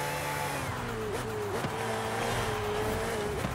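Ferrari 488 Challenge race car in Forza Horizon 5, a steady, fairly loud engine drone with shifting pitch as it corners, heard continuously with no talk.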